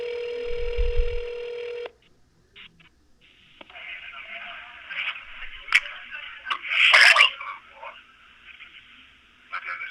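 A telephone call with a steady dial tone that cuts off, followed by a series of dialing beeps and clicks and then a continuous line tone, loud and close.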